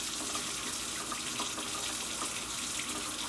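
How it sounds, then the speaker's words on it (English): Tap water runs steadily into a sink during handwashing, giving an even, close splashing hiss with no breaks and no voices. "let me wash my hands"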